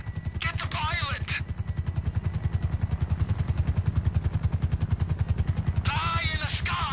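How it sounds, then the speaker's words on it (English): Helicopter under gunfire in GTA 5: a loud, steady rotor chop pulses throughout, with bursts of shouting voices at the start and near the end over it. "The chopper's gotta go, man."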